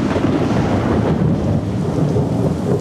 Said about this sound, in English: As the sun sets, a tropical rainstorm rolls in.